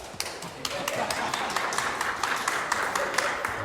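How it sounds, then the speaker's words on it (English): A live audience breaks into applause, a dense spread of claps with sharper individual hits standing out, steady and fairly loud for a few seconds with scattered voices mixed in. "give me a round of applause"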